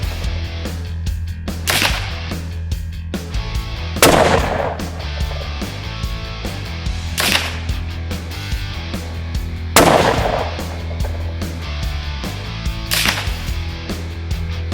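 A CZ 600 Trail rifle in .223 Rem fires five shots at 100 yards, each a loud sharp crack spaced a few seconds apart, over steady outdoor background noise, with no voices.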